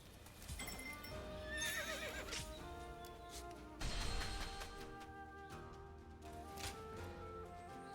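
Horse whinnies and neighs with clip-clop hoofbeats in the video game Dynasty Warriors Origins, loud and up close over a steady game music and effects bed, with a stronger burst midway.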